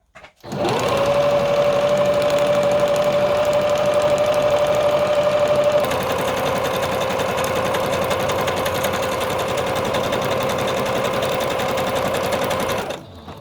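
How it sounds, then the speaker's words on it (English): A sewing machine runs a zigzag stitch across a fabric collage, a loud, continuous mechanical hum with a rapid needle rhythm that shifts pitch slightly partway through and stops abruptly at the end. "We're going to start with a zigzag stitch like I already started here and move from there."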